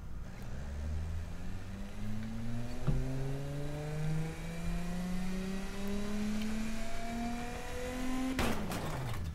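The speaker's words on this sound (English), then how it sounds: "if I go ahead and start the engine, this will give you an idea what happens." An engine in the Automation car tycoon game, built as a utility vehicle with a knocking condition, cranks and catches, then revs steadily upward through rising gears to a high pitch before cutting off abruptly, loud and alone.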